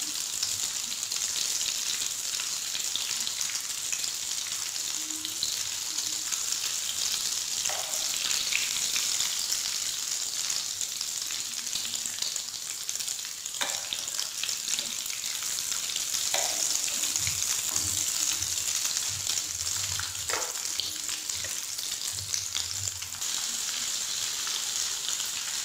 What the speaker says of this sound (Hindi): इनको आप लोगों ने तल लेना है